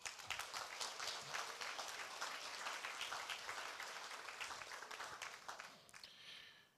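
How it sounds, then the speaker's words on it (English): Audience applause at a civic presentation about city planning, a dense steady clapping that holds for several seconds before thinning out near the end, heard from within the crowd. "please, one more round of applause for him."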